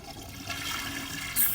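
A toilet flush in a video game, a watery rushing swirl that builds and ends in a brighter, louder surge, heard alone without talk.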